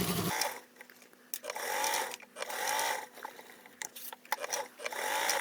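A sewing machine basting a large foldable tote bag from the underside, with short bursts of fast stitching between pauses and fabric handling, fairly quiet.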